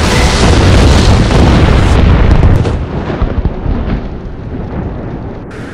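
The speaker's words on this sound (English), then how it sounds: "Time field about to detonate!" A time field detonating in a Doctor Who audio drama, a loud, dense explosive roar that holds for about two and a half seconds and then breaks into crackling rumbling debris that slowly fades.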